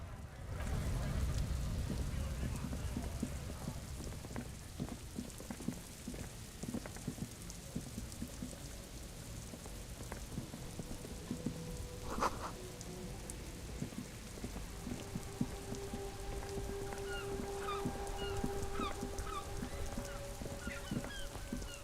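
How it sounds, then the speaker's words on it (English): Soft, steady patter of rain in the video game Disco Elysium, a quiet continuous wash of falling drops with faint tones and occasional clicks layered over it. "It's raining again."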